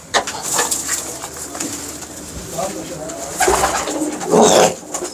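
Breeding pigeons coo in soft, repeated low calls close by, mixed with wing flutters and other bird sounds, while people talk over them.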